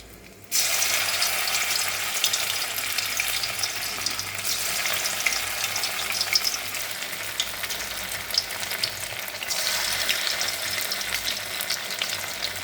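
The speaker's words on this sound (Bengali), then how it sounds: "কড়াইতে তেলটাও গরম হয়ে গেছে চলুন একটা একটা করে দিয়ে দিচ্ছি আমি" Rice pakoras drop into hot oil in a kadai, the sizzle bursting in after a quiet start and holding as a loud, even crackle with small surges as more pieces go in.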